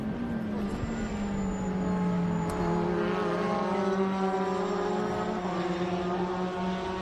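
A distant supercharged race car at Road America drones with a high, sustained supercharger whine sliding in pitch above the steady roar, heard faintly and continuously.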